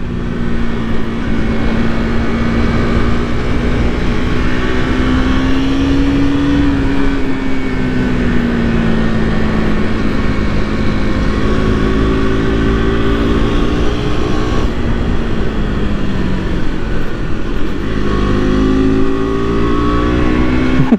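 A KTM RC200 motorcycle engine revs continuously while riding, a loud close buzzing drone whose pitch rises and falls with the throttle throughout, with no voices.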